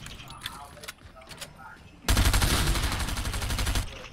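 Rapid automatic gunfire from hip firing in Fortnite bursts in loud and close halfway through, a dense sustained volley after quieter scattered game sounds and faint voice activity.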